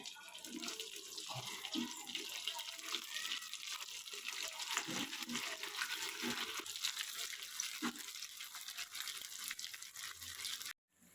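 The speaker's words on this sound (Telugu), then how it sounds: "ఇలా వేడివేడి నూనెలోకి ఇడ్లీలను వేసేయాలి" Small cut pieces of idli deep-frying in hot oil for a crispy snack give a loud, steady, close sizzling hiss that runs unbroken for about eleven seconds and then stops abruptly.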